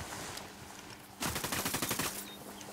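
Rapid automatic gunfire crackles in Ghost Recon Wildlands, a burst of about a dozen quick shots following quieter background ambience, moderately loud and fading out afterward.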